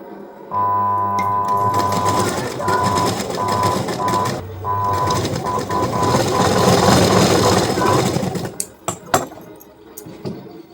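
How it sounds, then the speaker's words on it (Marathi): A sewing machine stitches the neck of a blouse, its motor whirring steadily and close for several seconds, pausing briefly midway, then running on before stopping with a few clicks. "तिथं शिवून घेते मी आता"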